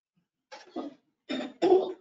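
A person clears their throat in a few short, rough bursts, close and clear against silence.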